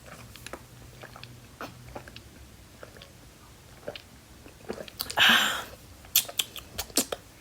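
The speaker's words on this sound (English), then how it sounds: "I do gulp when I drink water" Someone drinks water mid-podcast with audible, close-up gulps and wet mouth clicks: scattered soft ticks, then a louder swallowing burst and several sharp quick gulps near the end.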